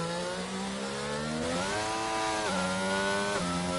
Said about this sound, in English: Heavy on the power, you hear the engine revving there.